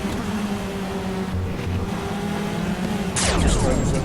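Formula 3 race cars on the start-finish straight at Circuit Gilles Villeneuve, a sustained engine drone joined near the end by a loud car sweeping past close by with a falling pitch.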